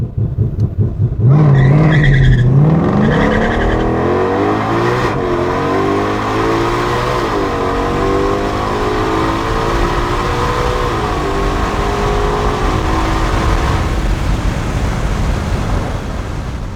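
A Ford Mustang Shelby GT500 engine roars loudly as it launches with launch control on a drag strip, tires briefly squealing, then revs climb and shift repeatedly as it accelerates away, close and intense.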